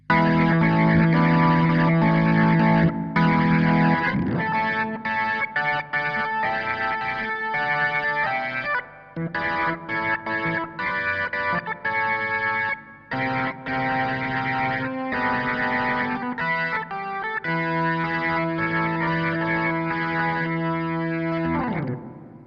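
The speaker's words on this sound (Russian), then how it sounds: "мне кажется, это один из параметров distortion" A distorted, buzzy synthesizer on an Arturia KeyLab 88 MkII plays sustained chords with choppy gaps, gritty distortion-effected noisy tone throughout, loud and continuous with no talking.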